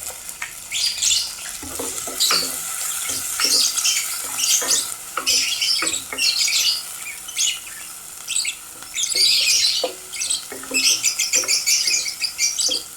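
Garlic, onion and tomato sautéing in a pan with ginger for a Filipino ginisang shell seafood dish, a steady sizzle broken by repeated stirring scrapes and clatters of a utensil against the pan.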